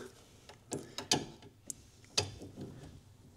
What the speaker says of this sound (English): I'm now tightening that up.